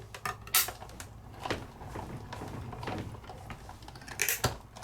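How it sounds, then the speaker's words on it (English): A Sizzix Big Shot die-cutting machine creaks and cracks as an intricate layering die is cranked through it. Scattered soft clicks and sharper snaps sound close by at a fairly low level. "You might hear some creaks and cracks, that's okay."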